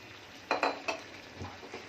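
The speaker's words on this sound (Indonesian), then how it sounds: "Lalu kita aduk kembali." Ayam woku being stirred in a pan, a few quick metallic scrapes and clinks of a spatula against the pan over a low sizzle, close and brief.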